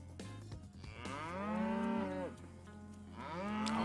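Cows moo in the farming video game Farming World, two long drawn-out lowing calls, one after the other, fairly quiet over a faint background.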